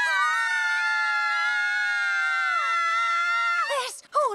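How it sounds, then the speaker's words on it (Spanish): A long, loud, sustained cartoon scream over a pimple, held for several seconds at a steady pitch before it wavers and breaks off into a short gasp. "¿Gritando solo por una espinilla?"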